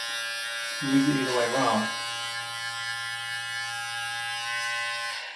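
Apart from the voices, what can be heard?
vacuum beard trimmer running while trimming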